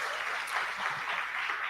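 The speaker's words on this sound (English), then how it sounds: "Can we give her a round of applause?" Applause from the audience at a CyberGirls orientation ceremony greets a woman named Confidence, a soft, smeared wash of many distant hands clapping in a large room, fairly faint and even throughout.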